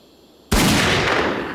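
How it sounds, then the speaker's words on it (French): A cartoon gunshot rings out in a Lucky Luke Western shootout, one sudden loud blast after a quiet moment with a long booming decay and no talk over it. "Tu tires, je tire, tout le monde est mort."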